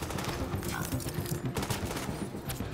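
Sniper and automatic gunfire in The Division video game during a hard fight at Grand Central Station, a dense barrage of overlapping shots with sharp cracks throughout.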